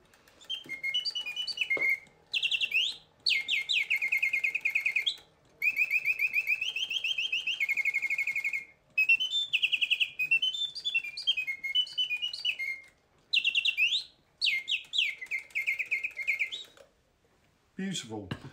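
Wind-up clockwork singing bird automaton with a feathered miniature bird, giving loud, close, high warbling trills and chirps in long bursts with brief pauses between phrases.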